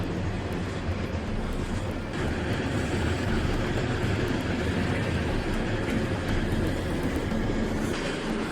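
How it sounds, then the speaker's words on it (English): A heavy, continuous rumble and rattling roar of a train passing close overhead on the Battle River Trestle near Wainwright, Alberta, a 1907 bridge, steady and loud throughout without pause. "As we were walking under the trestle, a train crossed over"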